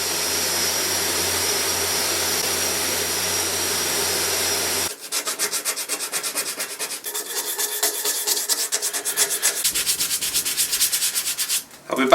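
Furniture parts under restoration are sanded with a steady, loud droning hum and grit rasp, then a run of rapid, rhythmic rubbing strokes close up, with no talk.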